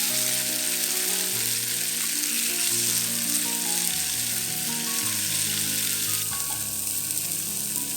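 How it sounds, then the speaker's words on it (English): Tofu fries in hot oil in a pan, producing a continuous close sizzle with light crackle and faint shifting sounds as the pieces settle, no voices. "Fry the tofu till it's a little brown."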